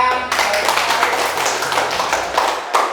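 An audience claps together in a room, a dense burst of applause that starts abruptly and continues steadily, with a voice briefly audible at the very beginning.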